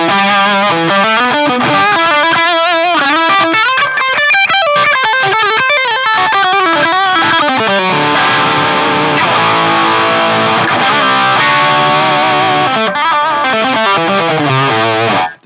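Electric guitar played through an IK Multimedia TONEX amp modeler, heavily distorted tones switching between presets, melodic runs and sustained chords ringing loud and alone with no talking.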